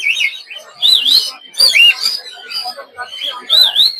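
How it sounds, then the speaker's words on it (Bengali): Caged birds at a bird market, conures and cockatiels among them, chirp and whistle in bright, repeated tweets, close and clear, with no talking. "দেখতে পাচ্ছেন এই জায়গায় বিভিন্ন ধরনের পাখির বাচ্চা, কান কুনুর, পাইনাপেল কুনুর, খরপাস, বিভিন্ন ধরনের পাখির বাচ্চা পাবেন।"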